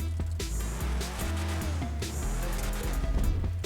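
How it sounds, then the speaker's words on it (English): Declasse Tampa muscle car in GTA 5 Online, engine revving and roaring steadily with gear changes and some tire squeal, loud and continuous throughout with no talk. "It's safe to say the car sounds pretty mean."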